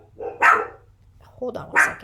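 A dog barks twice at a distance from the microphone, one sharp bark near the start and another near the end, with someone speaking briefly between them.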